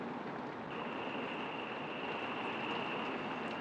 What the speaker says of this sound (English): I'm just getting a torrential downpour here.